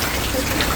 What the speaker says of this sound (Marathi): बघा एकदम मस्त पाऊस पडून राहिला आहे